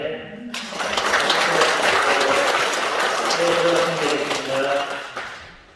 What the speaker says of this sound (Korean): 그리고 이제 박수 시작을 하면서 들어주세요.